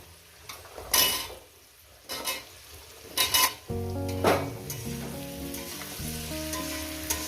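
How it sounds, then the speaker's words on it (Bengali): Drumstick (sojne data) vegetable frying in a pan for a potato-poppy seed curry, steady hot oil sizzle with sharp bursts of crackling as pieces hit the fat, then metal stirring and clattering against the pan, with faint music underneath. "সজনে ডাটাটা দেওয়ার পর আরও আমি চার পাঁচ মিনিট এটাকে ভেজে নেব"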